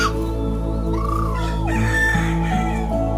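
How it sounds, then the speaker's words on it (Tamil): Chickens cluck and a rooster crows up close on a farm where passion fruit is being picked, the calls rising and falling over a steady low drone with no talking. "கோழியெல்லாம்"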